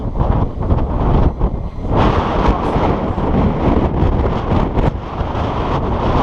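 Strong wind buffets the microphone in continuous loud gusts outdoors in Stocksbridge valley, a broad rushing roar with no voices.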